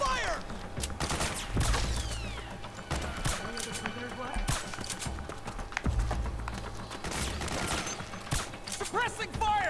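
Steady suppressing gunfire in Metal Gear Solid 4 rattles on in repeated bursts and scattered shots under constant battlefield clutter, with voices calling out between volleys.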